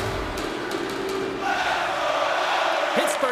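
Simulated arena crowd in an NHL 24 hockey game, a loud roar of cheering and shouting that rises midway, with a low, muffled voice underneath.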